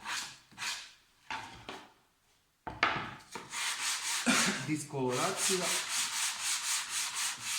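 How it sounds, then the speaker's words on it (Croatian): Wooden side panels are sanded by hand: a few separate scratchy strokes, a short pause, then a close run of steady, rhythmic back-and-forth rubbing. "onda to pobrusite da je sve jednako kad se pofarba"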